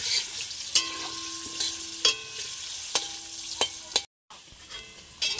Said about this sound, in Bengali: তো এবার আলুটাকে খুব লাল লাল করে ভালো করে ভেজে নেব।